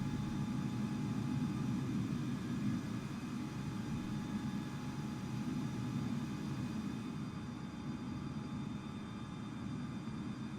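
An airliner, an A320neo in Microsoft Flight Simulator, taxiing at Zurich, a steady low engine rumble and whine holding at an even level throughout, with no voices.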